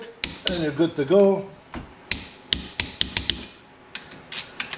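Torque wrench clicking at 80 foot-pounds while tightening bolts on a Polaris Sportsman 1000 ATV, a string of sharp, close clicks spaced irregularly; someone speaks briefly at the start.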